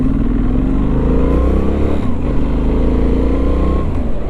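A Benelli Leoncino 800 T motorcycle engine pulls steadily up a hill, a loud, close, continuous low drone with slight pitch changes as the throttle varies.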